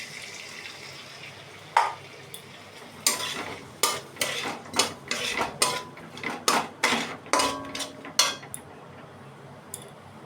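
Water mixed with salt, turmeric and Kashmiri chilli is poured into a cooking pan, followed by a steady run of scraping, stirring knocks and clatters of a utensil against the pan, about a dozen strokes in a loose rhythm.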